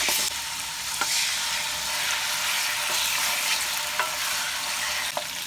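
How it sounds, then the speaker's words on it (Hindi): Chicken fries in hot oil in a karahi. A dense, loud sizzle runs throughout, with occasional light clicks from stirring and no voices. "कढ़ाई में ऑयल डाल के गरम करते हैं। ऑयल गरम हो गया, चिकन डाल दीजिए।"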